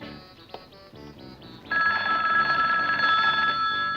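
A telephone keeps ringing with a bright, insistent trill, getting louder partway through, set against a background of rhythmic noise and no speech.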